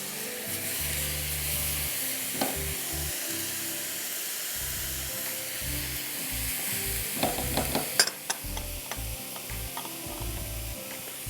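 Onion, garlic and chopped tomato sizzling steadily in a hot pan, with bursts of stirring and spatula scrapes over a constant frying hiss; no one talks.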